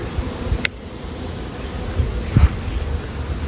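Honey bees working the frames of an outdoor hive, a close, steady buzzing drone with a couple of soft knocks and rustles from handling the frames.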